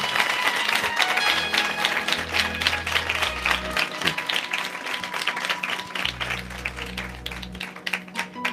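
Applause at a church gathering: steady, dense clapping from a crowd runs throughout at an even level, with a low sustained hum underneath.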